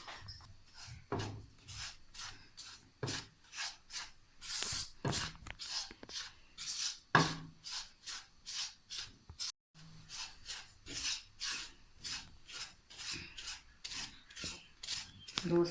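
Dry semolina (sooji) being roasted in an empty pan is stirred in a steady, rhythmic scraping and rasping pattern, quiet and close, repeating about once a second with no sizzle and no speech.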